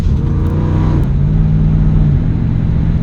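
A 1965 Ford Mustang engine with a suspected vacuum leak, heard close and loud, revs up and settles into a steady, throaty drone.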